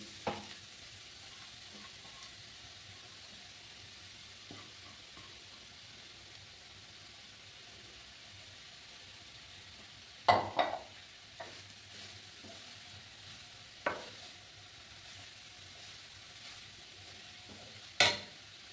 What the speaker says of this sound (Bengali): আমি এবার গ্যাসের আঁচটাকে কমিয়ে গাজরগুলো দিয়ে দিচ্ছি।